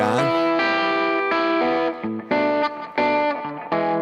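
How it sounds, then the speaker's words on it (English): Distorted, effects-laden instrumental chords play in short sustained bursts with a gritty saturated edge from a tape machine plugin and slight echo, no voices. "I do have this tape machine plugin that's adding a little bit of distortion."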